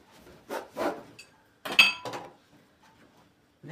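A knife cuts through a yeast-dough roll made with coconut milk, filled with walnut and cocoa and dusted with powdered sugar. A few short scraping, clinking strokes come in separate bursts, close and moderately loud, with quiet pauses between them.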